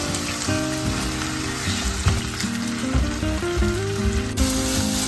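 Garlic sizzles and crackles steadily in a hot pan, with a few stirring scrapes and no voices.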